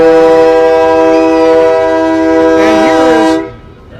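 A loud, sustained air horn blares at a Christmas parade with a steady chord-like tone, joined briefly by a second wavering horn before cutting off abruptly.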